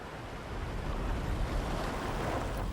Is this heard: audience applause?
no